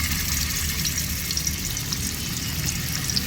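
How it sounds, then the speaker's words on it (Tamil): Fish fries in hot oil for a village-style fish curry, making a continuous, dense crackling sizzle that stays loud and even throughout, with no talking. "எண்ணெய் சூடாகிடுச்சு. மீனை பொரிச்சிடலாம்"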